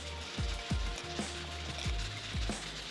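Chicken marinade with spices and oil being stirred in a bowl, with repeated close clicking, scraping strokes at an uneven rhythm and a steady background hum, and no talking.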